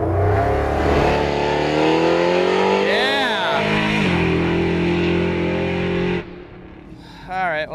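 A nitrous-fed muscle truck launches hard down a drag strip, its engine roaring loud and close with rising revs, a brief high tire squeal, then easing off as the truck pulls away, with voices faintly under the noise.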